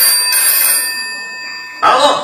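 A telephone bell rings during a Bulgarian-language stage skit at a folk festival in Chicago, a bright sustained trilling tone followed by a burst of louder sound.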